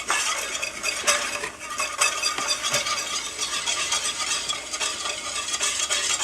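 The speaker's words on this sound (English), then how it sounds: "And we're gonna get another whisk. And we're just gonna keep adding little bits of flour at a time." Flour being whisked into a cooking roux for tamales, a continuous bright scraping and rattling of a whisk against the pan over a steady sizzle, close and loud.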